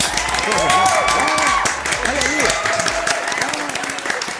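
Studio audience applause greeting a guest on a television talk show, moderate clapping heard beneath a host's talk and background music tones.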